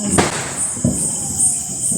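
Firecrackers burst at a Diwali celebration, with a sharp crack followed by a second, softer pop, against a steady background hiss and faint noise.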